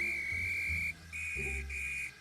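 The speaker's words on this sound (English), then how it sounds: "As soon as the guards blew their whistles" Guards blow shrill, steady whistles in three sustained bursts separated by brief gaps, loud and close over a low rumbling background.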